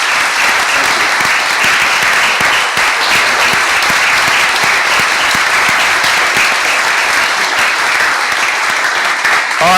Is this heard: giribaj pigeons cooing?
no